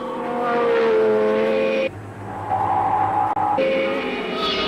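Formula 1 race cars from the 1973 season scream past at high revs, their loud, whining engines rising and falling in pitch as they pass in quick succession, with no voices over them.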